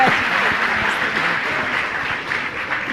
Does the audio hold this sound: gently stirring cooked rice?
no